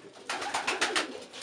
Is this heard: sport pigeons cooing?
yes